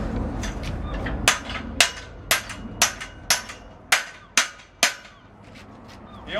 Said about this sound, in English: And now please just fasten the wedges lightly.